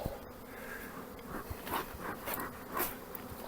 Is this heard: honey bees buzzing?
yes